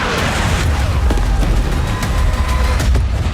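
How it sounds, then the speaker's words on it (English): Dense, loud gunfire and booming explosions from the Battlefield 6 video game trailer, set in urban streets and on a shoreline. Continuous rattling shots and heavy blasts run the whole time with no talk. "Returning gunfire in the streets of Cairo, and crippling machines of war on the shores of Gibraltar."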